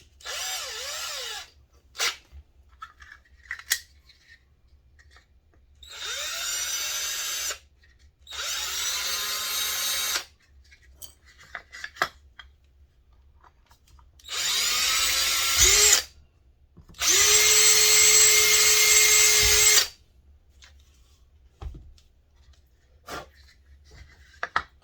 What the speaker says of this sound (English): I'm going to drill it out and then run the screws in there.